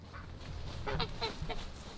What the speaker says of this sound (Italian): Le oche qui aiutano la coltivazione della vite mangiando l'erba sotto i filari